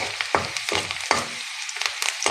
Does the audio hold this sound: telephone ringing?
no